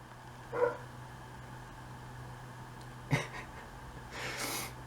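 A dog gives a couple of short, separate barks or huffs a few seconds apart, close by and moderately loud over a quiet room hum, followed by a softer snort.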